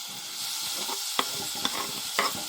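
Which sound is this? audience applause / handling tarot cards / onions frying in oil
onions frying in oil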